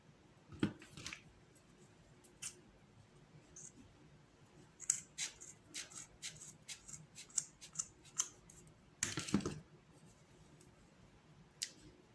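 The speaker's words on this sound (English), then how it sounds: "I'm going to cut this in half again" Scissors cut craft material for a DIY pampas grass decoration, giving quiet, close snips in an irregular series with a brisker cluster of cuts toward the end.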